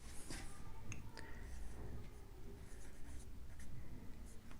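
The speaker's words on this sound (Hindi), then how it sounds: "तो यहाँ पे लिखेंगे हम" Pen or chalk writing on a board during a 12th-class chemistry lesson on concentration terms, with steady scratchy strokes close by and no talking.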